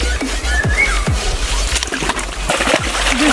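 A pike released back into a river splashes and sloshes in the water close by, with a few distinct splashes and trickles over a low rumbling background.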